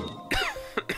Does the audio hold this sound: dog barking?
no